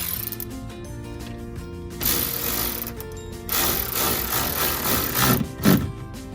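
Power tool tightening a bracket screw on an Audi R8 carbon fiber rock guard, a close mechanical ratcheting whir in several loud bursts separated by short pauses.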